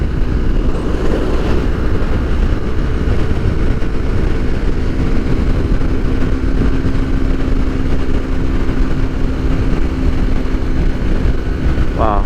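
A Yamaha R3 motorcycle fitted with an Akrapovic slip-on exhaust rides at highway speed, giving a steady, loud engine drone with wind roar that holds unbroken for the whole stretch.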